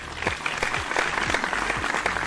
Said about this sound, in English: No more applause, please.